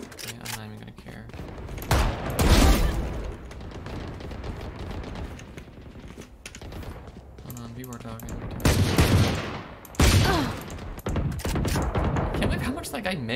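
Loud gunfire from Valorant, played as Sage on the Ascent map, comes in bursts of rapid shots with booming impacts, separated by quieter stretches of game noise and a player's voice talking over it.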